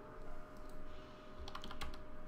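Rapid clicking keystrokes on a computer keyboard in a steady run under a constant background hum, with a denser burst of sharper key presses near the end.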